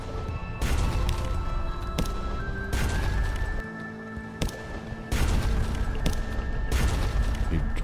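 A ship's cannon in Sunless Sea fires several heavy, booming shots spaced a second or two apart, each sharp blast standing out above a steady low droning background.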